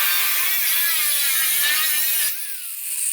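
Steady sawing on the rear valance panel of a 1940 Ford-inspired hardtop coupe build, a loud continuous rasp for about two seconds that then drops off to a fainter, thinner grind.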